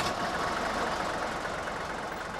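Rattling diesel car engine idling steadily, a dense, even clattering drone held close and loud without pauses.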